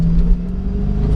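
Corvette C5 Z06 sports car turning around on a winding road, its engine giving a low, steady rumble heard close up from inside.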